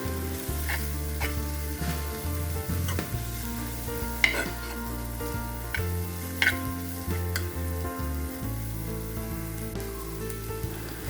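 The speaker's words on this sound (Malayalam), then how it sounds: "1 സ്പൂൺ മുളക് പൊടി, 1/2 സ്പൂൺ ഗരം മസാല പൊടിയും കൂടി ഇട്ട് നല്ലതുപോലെ ഒന്ന് മിക്സ് ചെയ്തെടുക്കാം." Tomato, green chili, chili powder and garam masala fry with a steady, dense sizzle in a pan for a fish gravy, broken by scraping stirs and a few sharper utensil knocks, close up with no talking.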